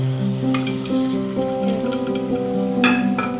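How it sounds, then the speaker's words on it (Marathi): Mutton dropped into fried masala in a pan sizzles steadily, broken by a few sharp scraping stirs, all under a constant humming tonal background. "आता आपण ते मटण टाकून घेऊया."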